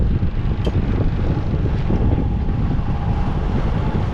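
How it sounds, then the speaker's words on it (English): Sailboat motoring under engine at 1200 RPM and about 4 knots in light wind, a steady low rumble with water rush and wind buffeting on the microphone, continuous and fairly loud throughout. "we're motoring like at like 4 knots. We're at 1200 RPM."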